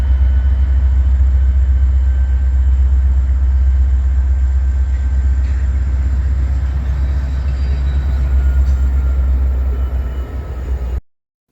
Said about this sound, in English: Trailing behind a mixture of Kansas City Southern and Canadian Pacific engines on NS 245 are 5 Florida East Coast ES44C4s